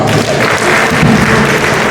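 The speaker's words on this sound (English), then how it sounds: "Can you clap for her?" An audience at an opening ceremony in Ogun State bursts into dense, continuous applause, loud and close, filling the whole moment.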